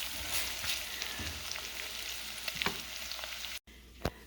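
Onions softening in a pot for a copycat Zuppa Toscana sizzle and crackle steadily while being stirred, with occasional scraping clicks, close but fairly quiet.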